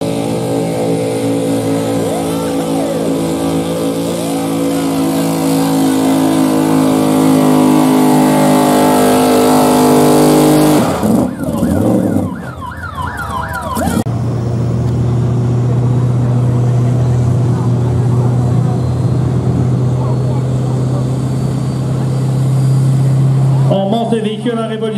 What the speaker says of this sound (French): On monte le véhicule en révolution, vous avez compris.